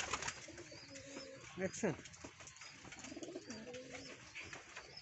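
Red wild pigeons in a loft giving soft, low rolling coos, with someone speaking close by over them and a faint background hiss.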